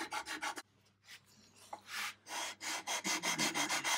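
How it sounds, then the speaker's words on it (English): A rasp filing the wooden edge of a guitar body, close and loud, in quick rhythmic rubbing strokes with a brief pause before the strokes resume faster and more evenly. "I think I made quite a good job with the rasp on this"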